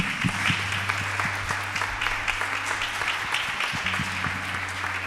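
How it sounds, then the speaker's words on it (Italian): Steady applause from a church congregation during worship, dense and sustained throughout, fairly loud with no pauses. "Facciamo un applauso al Signore."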